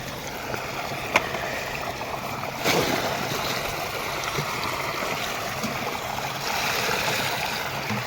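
Water pours from a 20-litre bucket onto a farm field, a steady close rush of flowing, splashing water that holds at an even level throughout.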